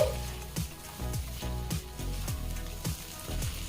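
Fried potato pieces are stirred with spices in a sizzling pan for aloo katli: a spatula scrapes and knocks in a regular rhythm, roughly every half second, over a low frying hiss.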